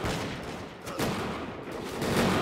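Gunfire in Mount & Blade II: Bannerlord with an early 1700s European mod: a dense, steady roar of massed musket volleys under battlefield noise, loud throughout with no clear gaps.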